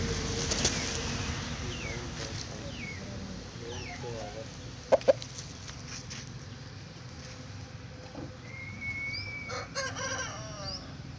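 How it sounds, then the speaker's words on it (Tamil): Uchipoo Mayil rooster, a young cock about one year old, clucking and crowing in short calls at moderate distance amid outdoor ambience, with a few sharp knocks partway through. "மயில் சேவல்."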